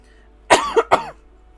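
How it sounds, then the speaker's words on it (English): A streamer coughs harshly twice in quick succession, close and loud against a quiet background hum. "The big cough is getting me."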